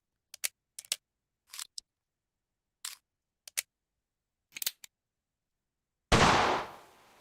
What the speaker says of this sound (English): Okay, now reloading.